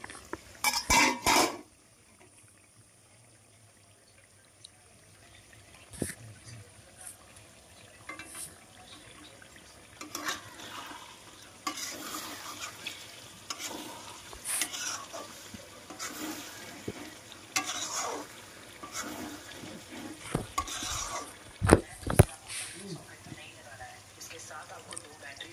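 Kadai chicken with ground black pepper is stirred in a pan: a soft sizzle underneath, with intermittent scraping and clinks of a utensil against the pan at close range.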